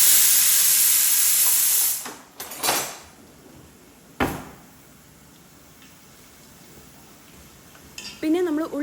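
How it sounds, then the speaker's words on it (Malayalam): Onions being fried in oil for beef dum biryani give off a loud, bright sizzle for about two seconds, then a few sharp clinks and scrapes, a long quiet stretch, and a voice briefly at the end. "എന്നിട്ടിൽ 2 ഉള്ളി ഞാൻ ഫ്രൈ ആക്കാൻ ഇട്ട് കൊടുക്കലാണ്."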